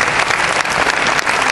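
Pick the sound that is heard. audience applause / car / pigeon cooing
audience applause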